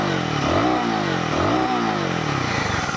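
A Royal Enfield Guerrilla 450 motorcycle engine revs hard twice in quick succession, each rise and fall loud and close against a steady idle rumble, with no speech.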